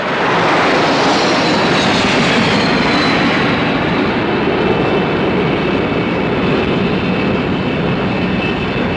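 Several RAF jet aircraft of the 1950s–60s display era fly in tight formation through an aerobatic loop, a loud continuous engine roar and rushing drone with a slowly shifting whine, steady throughout with no talk.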